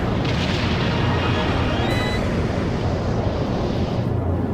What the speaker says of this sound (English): Wow, that's a moonstone cannon